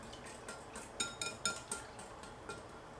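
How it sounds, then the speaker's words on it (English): A whisk clinks and taps rhythmically against a bowl while rice pudding ingredients are beaten together, faint close strokes in a quiet kitchen. "I'm going to very quickly whisk these things together"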